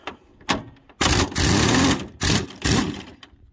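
Old air impact wrench on a 2005 Chevy Silverado 1500 4.8 stepside, firing in several loud buzzing bursts of varying length separated by short pauses, close up.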